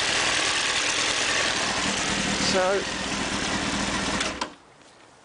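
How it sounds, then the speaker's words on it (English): A 2002 Honda Hornet 600 motorcycle engine idles with a steady, smooth mid-pitched hum close by, running for about four seconds before cutting off abruptly, while a voice briefly speaks over it. "runs and sounds just like the Honda Hornet should"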